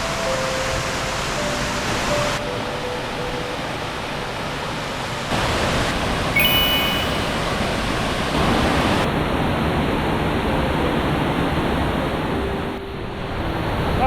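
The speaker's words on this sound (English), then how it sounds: "So a nice trifecta of waterfalls here." Mohican Falls at Ricketts Glen sends out a constant broadband rush of falling water, loud and close. The roar shifts a little as the listening spot changes, with no voices over it.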